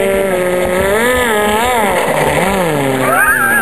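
An RPG Tempest model motor revving on a ground test, a loud, steady electric whine that swells and dips in pitch with throttle changes and never drops out.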